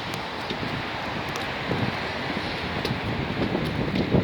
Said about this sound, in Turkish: 20 kilometre hızla bir rüzgar esiyor.